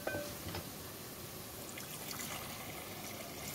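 A little water trickles steadily into a cooking pot of chicken with bitter gourd, onion, tomato, turmeric and chili, a soft continuous pour heard close and fairly quiet.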